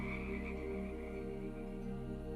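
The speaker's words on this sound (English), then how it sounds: "she even managed to sneak in a small pond full of lively frogs" Frogs croak in a small pond, a dense, continuous chorus of steady rhythmic croaking heard alone at moderate distance.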